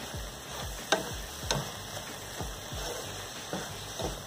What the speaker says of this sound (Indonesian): Sekarang kita masukkan garam secukupnya ya. Aduk lagi.